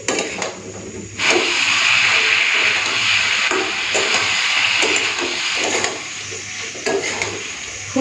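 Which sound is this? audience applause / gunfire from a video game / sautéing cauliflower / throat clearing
sautéing cauliflower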